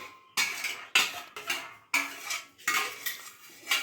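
Cooked greens and beans being spooned into a mixer jar, a run of sharp metallic scrapes and clinks from a spoon against the cookware, repeated in uneven bursts close up.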